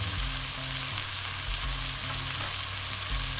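Cumin, coriander and garam masala fry and get stirred in a hot pan for bunny chow, a loud continuous close sizzle with a low rhythmic hum beneath it.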